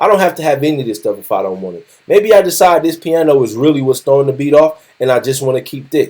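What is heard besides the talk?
None of the usual background noises is heard.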